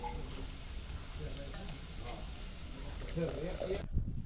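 Okra is added to garlic frying in oil in a pan, giving a soft, steady sizzle with a few louder crackles near the end, under a faint voice.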